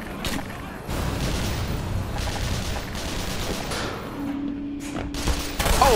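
Gunfire in the video game Black Mesa, a continuous rattle of rapid shots and explosions at high volume across several seconds, with a voice talking briefly over it.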